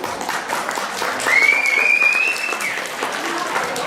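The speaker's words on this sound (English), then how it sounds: "on peut leur donner une bonne main d'applaudissements" An audience applauds the archive volunteers at a benefit for the Hemmingford archives, sustained clapping that swells in the middle, with a thin high whistle-like tone and faint crowd murmur.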